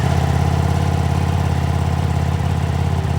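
A Ducati Diavel V4 motorcycle engine idles with a deep, steady, throbbing rumble through the exhaust, loud and close, with no other sounds.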